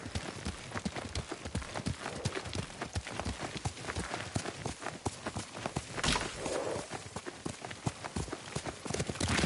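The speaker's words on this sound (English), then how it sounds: "Lord Sakai taught me to ride a horse." Steady hoofbeats of a horse at a brisk pace in the video game Ghost of Tsushima, continuous rhythmic clip-clop close by, with a low rumble underneath and no talking.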